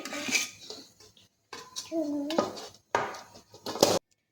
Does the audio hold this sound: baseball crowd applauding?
no